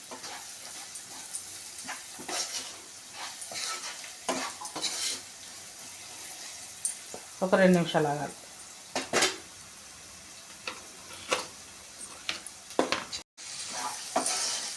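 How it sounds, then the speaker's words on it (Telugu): Onions fry with salt in a pan, a faint sizzle under intermittent stirring and scraping clinks, with a short burst of louder frying midway while someone speaks briefly. "ఉల్లిగడ్డలు వేగినాయి."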